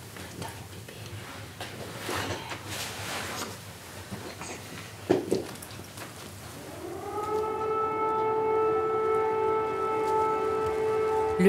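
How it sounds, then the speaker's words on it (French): An air raid siren in Kyiv slowly winds up after several seconds of quiet outdoor ambience and a few knocks, then holds a loud, steady, sustained wail. "Ces sirènes, ça me fait peur."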